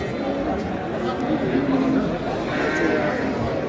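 Sheep bleat at a crowded livestock market, their calls rising over a dense, steady din of milling animals and people talking nearby.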